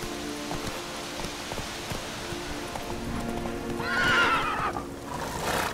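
Roach, a horse in The Witcher 3 video game, gives a loud, clear whinny over steady ambient game noise, with soft hoof clip-clops in the background.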